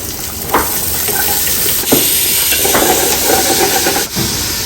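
Steady crackling sizzle of onions and carrots frying in hot oil, with a few brief stirring clatters; no voices.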